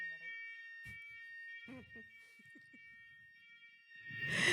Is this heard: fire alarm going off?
yes